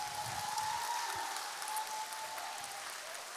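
Audience clapping at a church concert during a trot singer's guest performance, a dense, steady wash of applause filling the room throughout, with no talk over it.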